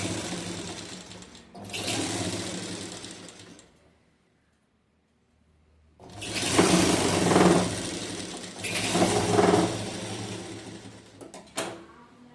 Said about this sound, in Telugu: ఇప్పుడు మిషన్ ఎలా రన్ అవుతుందో, కుట్టు ఎలా వస్తుందో చూడండి.